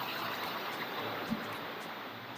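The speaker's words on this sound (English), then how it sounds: "the river over there." A forest river near a waterfall at Port Barton, Palawan, gives a steady broadband rush of flowing water, even and unbroken throughout, heard alone at a moderate distance.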